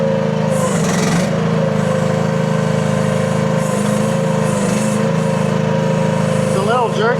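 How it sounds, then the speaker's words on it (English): A small engine on a CFG QH12R mini excavator runs at a steady, close, loud hum whose pitch shifts slightly as the throttle is raised and lowered, with speech present in the clip. "Throttle up, throttle down."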